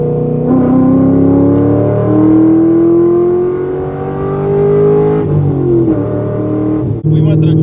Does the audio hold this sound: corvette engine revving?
yes